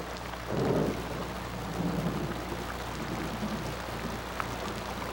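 Heavy rain pounds steadily on desert sand while low thunder rumbles in a couple of soft swells, the downpour hiss continuous throughout.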